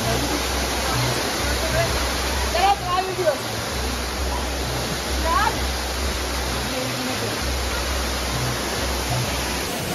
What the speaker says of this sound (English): So that's the Batsu waterfall.